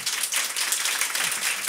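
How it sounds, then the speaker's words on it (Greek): An audience breaks into applause, a dense steady patter of many hands clapping at moderate volume for the whole stretch. "Μυρτό, ένα χειροκρότημα για τη Μυρτό."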